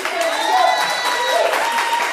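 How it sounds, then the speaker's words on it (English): An audience breaks into steady, dense applause during a comedy improv show, with a voice speaking over the clapping. "give them a round of"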